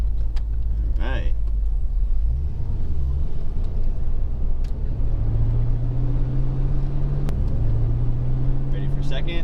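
A car with a manual gearbox, driven by a child, rumbles steadily as the engine pitch drops and climbs again through a gear change, with voices talking over the engine noise.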